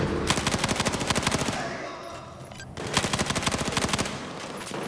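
Machine gun fire in the Battlefield 4 video game, two sustained rapid bursts of loud evenly spaced shots separated by a brief lull, with a little game noise in between.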